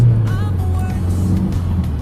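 A car engine with a misfire fault revs hard toward 6,000 RPM, a loud, steady close roar sustained throughout with no talk over it.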